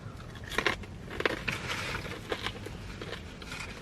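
Crunchy Taco Bell food bitten up close, with several sharp crackling crunches around the middle of the clip over a low background hiss.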